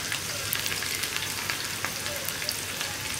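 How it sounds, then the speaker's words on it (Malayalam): Sliced onion rings fry and get stirred in a pan of oil while making paal kappa, a steady dense sizzle with small scraping clicks from stirring, close and continuous, with no talk. "ഈ ഉള്ളി ഒന്ന് ലൈറ്റായിട്ട് ബ്രൗൺ ഷെയ്ഡായി വരുന്നത് വരെ നമ്മൾ ഇളക്കി കൊടുക്കുക"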